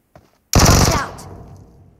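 A loud, close burst of automatic gunfire from the mobile battle-royale game BGMI rattles off in a rapid volley, then rings out and decays into an echoing tail, preceded by a faint click.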